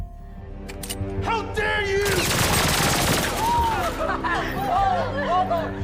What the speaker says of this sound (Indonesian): tokoh utama dalam film ini bernama Donggu merasakan ada bunyi tembakan.